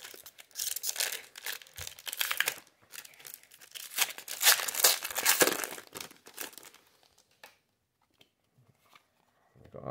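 A Pokemon Lost Origin card pack is torn open up close, with loud crinkling and ripping foil for several seconds, then quieter rustles of cards being handled.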